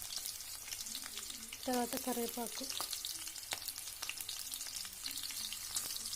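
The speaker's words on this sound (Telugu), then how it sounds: "ఆయిల్ హీట్ అయింది, ఆనియన్స్ వేసేసుకున్నా." Onions and garlic sizzle steadily in hot oil for a bitter gourd tamarind curry, a continuous close frying hiss with a short burst of a voice speaking over it partway through.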